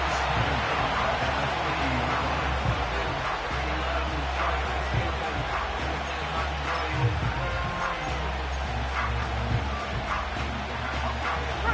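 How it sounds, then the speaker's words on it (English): A football stadium crowd roars during a fourth-quarter third-and-long, a dense, steady wall of cheering and noise that holds at full loudness throughout, with no clear talk. "The crowd cranking it up another notch before third and long."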